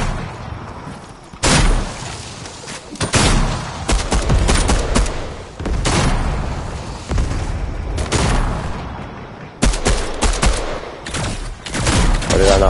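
Rapid bursts of gunfire and booming shots ring out in a Fortnite squads match, with loud volleys and automatic fire in clustered, irregular bursts and brief pauses between them.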